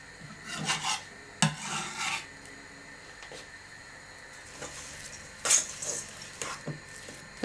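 Softened butter, mixed with fresh garlic, is worked in a bowl, producing intermittent scraping and rubbing strokes of moderate loudness with brief sharper knocks and quiet gaps between.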